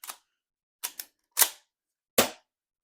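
Gas-powered airsoft sawed-off shotgun, cut down and fitted with M4 magazines, fires five sharp pops in an uneven sequence, two of them close together, each loud and crisp with a short hissing tail of gas.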